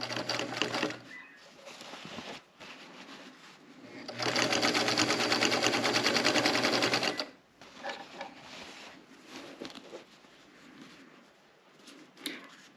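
A sewing machine stitching across a bag strap, a loud, steady mechanical whir lasting about three seconds, bracketed by quieter handling noises and someone speaking before and after.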